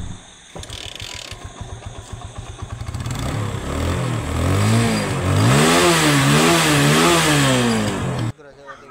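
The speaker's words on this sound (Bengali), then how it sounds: "বাইকটা আবার স্টার্ট দেব।" A motorcycle, serviced with a new spark plug and checked oil, is kicked or cranked with ratcheting clicks, then its engine catches and revs up and down loudly and close by for several seconds before cutting off abruptly.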